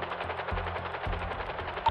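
Rapid automatic gunfire in GTA roleplay, a steady stream of close, loud shots with regular low thuds, without talk.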